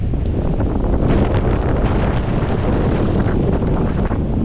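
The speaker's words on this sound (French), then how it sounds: "On trouve dans les montagnes croates. Et c'est vraiment des énormes rafales." Strong, steady wind buffets the microphone high in the Croatian mountains, a loud, continuous roar with no letup across the whole stretch.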